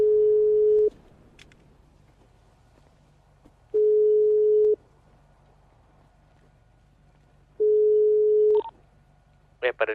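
Telephone call being placed, with three identical steady ringback tones repeating at regular intervals of about three seconds against a quiet background, followed by a few faint clicks at the end.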